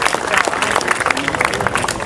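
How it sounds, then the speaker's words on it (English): Loud, close crowd applause at an aviation society fun day, greeting a Winston Churchill impersonator; dense clapping fills the short span with a few voices mixed in. "A round of applause for Mr. Churchill, please."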